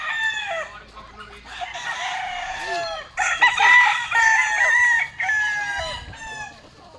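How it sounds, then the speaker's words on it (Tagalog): Several roosters crow loudly one after another, overlapping with scattered hen clucks nearby, a busy flock with no talking. "Ang dami manok, eh."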